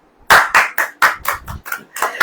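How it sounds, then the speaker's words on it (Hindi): A church congregation claps in a quick series of about nine sharp, loud bursts, fairly close and with no talking over them. "ताली नहीं लगाएंगे?"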